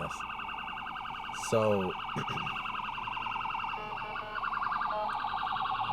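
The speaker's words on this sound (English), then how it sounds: "there's an ambulance here" An ambulance siren wails continuously in a rapid warbling pattern, steady and fairly close, with a brief voice and a short honk partway through.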